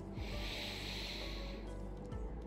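Slow, deep in-breath during a seated chair yoga session: a long steady airy hiss that holds for about a second and a half before fading, close and alone with no talking.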